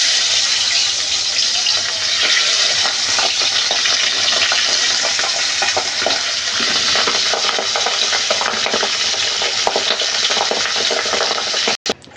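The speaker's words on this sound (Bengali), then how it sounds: "মাছ যেগুলো আছে আমি এগুলো পরপর ভাজি করে নেব।" A batch of pabda fish crackles and sizzles in hot oil, the dense frying hiss holding steady and close for about twelve seconds before a brief clatter near the end.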